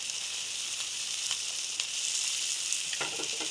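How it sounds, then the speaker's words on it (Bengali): Fish frying in a hot kadai gives a steady, moderately loud hiss of sizzling oil, with a few faint pops and spatters scattered through it. "তো মাছগুলো ভাজা হতে থাকুক"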